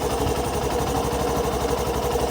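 A Hero Passion Pro motorcycle engine idles steadily with its i3S idle-stop system switched off, a continuous close rumble with a fast mechanical chatter and no break or stall, with no voices.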